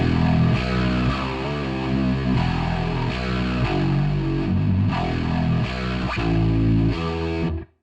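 Virtual 8-string guitar from Shreddage 3 HYDRA on the Mirrored Beast snapshot plays low-register, progressive melodic distorted lines, loud and continuous with chugging low notes throughout, ending abruptly.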